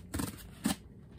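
Two short, crisp snips from a pair of tiny scissors cutting open a cardboard box, close and quiet with a brief pause between them.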